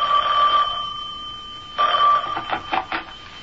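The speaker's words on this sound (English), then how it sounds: "I was barely settled into my mother's house when the phone rang." A telephone bell rings in a radio drama, two distinct bursts of bright trilling ringing, the first long and steady, the second broken into shorter pulses.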